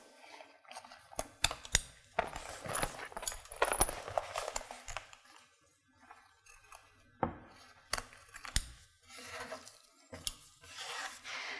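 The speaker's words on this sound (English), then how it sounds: "you can trim off all that extra zipper tape so it's even with the side edges" Scissors snip off extra zipper tape on a cork fabric pouch, close up, with quick irregular cuts and light rustling, then a pause before a few more snips.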